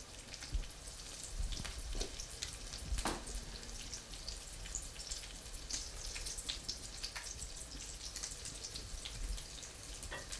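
Vegetarian batter frying in oil, with a steady crackling sizzle and scattered pops and spits running through the whole stretch at moderate level, no talk.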